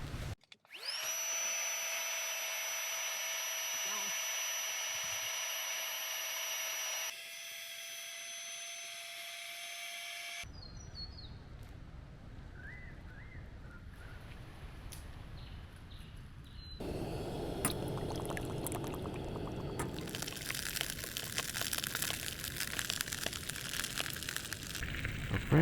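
Small electric pump gadget inflating a Zempire MonstaLite sleeping mat outdoors, a loud steady high-pitched whir that cuts off after several seconds, then quieter rustling and a harsh, noisy buzz later.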